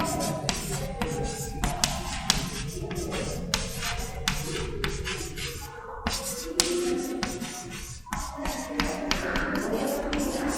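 A pen or chalk writes steadily during a statistics lecture, producing continuous scratchy strokes and frequent sharp taps, close and fairly loud, with occasional soft shuffling and no speech over it.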